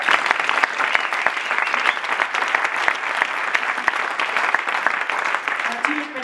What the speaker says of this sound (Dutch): Echt een groot applaus is voor u.